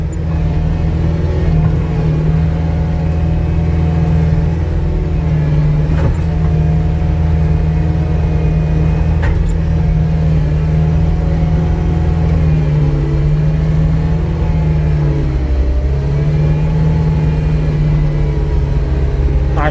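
A vehicle engine labors steadily as it climbs a muddy road on a worksite, a continuous loud low rumble with slight revving swells that carries on without a break.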